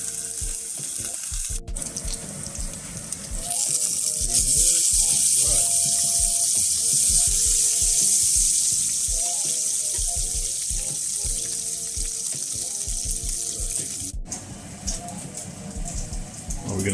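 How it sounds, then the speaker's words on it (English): Bacon sizzles and crackles steadily in a frying pan for a BLT, a continuous hiss close by with a few brief clatters of utensils. "Just fry our bacon"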